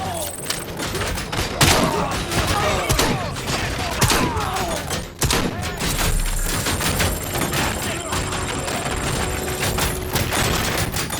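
Sustained volleys of gunfire and heavy thuds in the shooter game Robocop: Rogue City, a dense continuous barrage with scattered sharp impacts and mechanical clanks throughout.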